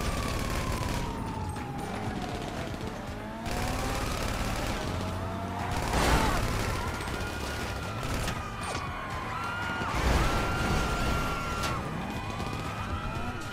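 Gunfire in GTA 5 during a heist getaway: repeated bursts of shots over a steady engine and road rumble, with police sirens sweeping up and down throughout and a couple of louder impacts.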